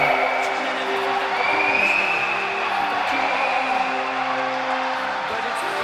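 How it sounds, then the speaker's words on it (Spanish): A large crowd at a Spanish under-14 boys' volleyball championship final roars and cheers continuously, with applause and whoops blending into a loud, steady wash with voices mixed in. "Démosle un merecido aplauso"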